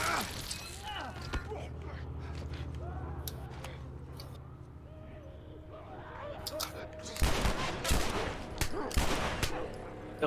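Gunshots in The Last of Us, heard as sharp cracks scattered through continuous game noise and scuffling. The firing gets denser and louder toward the end.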